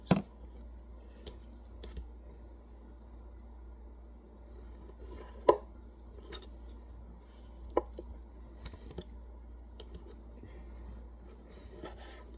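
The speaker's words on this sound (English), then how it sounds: "I'm just cutting off any excess fat and then just cutting it onto bite-sized pieces" A knife cuts excess fat off meat and slices it into bite-sized pieces, giving soft scraping and rubbing strokes with a few sharp clicks on a cutting board, close up and alone in a quiet room.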